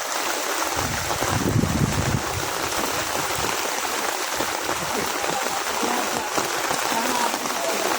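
Floodwater rushes in a steady, loud broadband roar during Typhoon Enteng in Burdeos, Quezon, with a heavier churning surge in the first couple of seconds and no clear speech.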